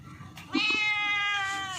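A pet cat gives one drawn-out meow, loud and close, after a short stretch of quiet room sound.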